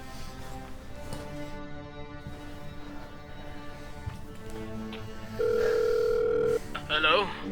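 A steady telephone dial tone comes in partway through, over background talk and music, followed by short electronic beeps as a call is placed; people speak in the scene.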